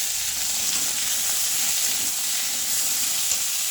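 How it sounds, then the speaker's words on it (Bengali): Vegetables for a vegetarian pumpkin-greens dish fry in a pan, giving a steady, close sizzling hiss. Faint stirring movement runs underneath, and no one speaks. "সবজিগুলো দিয়ে এবার একটু নাড়াচাড়া করে নেব।"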